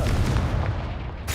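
A Confringo spell blast goes off in Hogwarts Legacy, a dense rumbling burst with a booming low end that fills the moment, then a brief bright crackle near the end.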